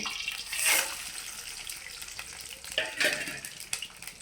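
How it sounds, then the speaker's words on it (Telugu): Hot oil sizzles and crackles as tempering spices go in for gongura pulihora, with a louder burst of frying early on and another about midway, with no one talking. "ఆయిల్ వేడెక్కిందండి, పోపు వేసేసుకుందాము."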